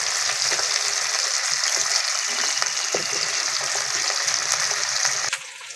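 Freshly caught pond fish frying in hot oil for a mustard-poppy seed curry, a loud dense continuous sizzle close up, almost no variation until it drops slightly near the end, no speech.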